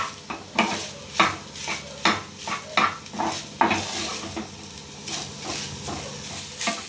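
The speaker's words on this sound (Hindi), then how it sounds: "तो लगातार चलाते हुए इसे भून लेते हैं 1 मिनट तक" Crumbled chhena roasting dry in a pan on low flame, stirred nonstop: a quick, regular rhythm of spatula scrapes and knocks against the pan over a soft, steady sizzle, close and clear.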